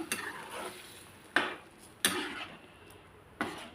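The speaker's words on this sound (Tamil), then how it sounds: "நல்ல ஒரு கிண்டி விட்டுருவோம்." A utensil scrapes and knocks against a pot of white pumpkin poriyal in a few sharp strokes, with quiet gaps of soft stirring between them.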